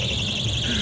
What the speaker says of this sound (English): A rape alarm.